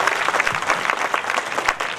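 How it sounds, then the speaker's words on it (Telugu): A congregation in a church at a Christmas celebration claps in a dense, continuous burst of applause, loud and close, with a faint murmur of the crowd beneath. "గట్టిగా చప్పట్లు కొట్టి ప్రభుని గణపరచుదాం."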